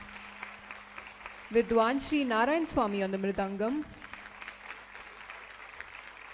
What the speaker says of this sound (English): Please give a round of applause to Guru Srimati Shubhangi Bhalerao on the Nattuvangam